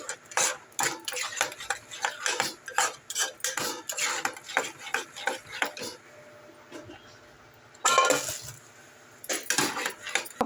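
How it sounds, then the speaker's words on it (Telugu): A spoon stirring chili powder into tomato chutney in a pan: repeated scraping and clinking strokes in an irregular rhythm, close and fairly quiet, with a brief pause and a louder clatter near the end. "ఇలా వేసాక రెండు బాగా కలిసేటట్టుగా బాగా మిక్స్ చేసేయాలి"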